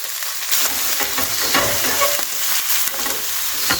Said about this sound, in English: Saute the vegetables.